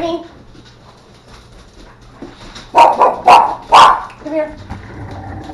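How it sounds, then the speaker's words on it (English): Several dogs bark in a home kitchen, three loud close barks in a quick cluster midway, with a low hum and background voices around them. "Sorry, that's the dogs."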